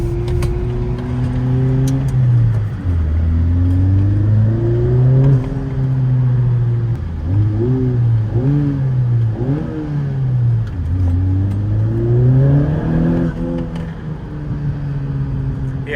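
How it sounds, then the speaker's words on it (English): A Honda Civic Type R LE engine revs repeatedly, its pitch climbing and falling through several rises and dips, with artificial induction noise played through the cabin speakers in R mode, loud and close from inside the car. "the artificial induction noise comes through the speakers because it gets significantly louder inside in R mode"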